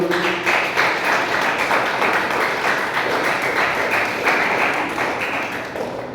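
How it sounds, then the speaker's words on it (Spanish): A church congregation at a Bible study gives a strong round of applause, close and fairly loud, with individual claps pulsing through a steady clatter for about six seconds. "Denle un aplauso fuerte al Señor, hermano."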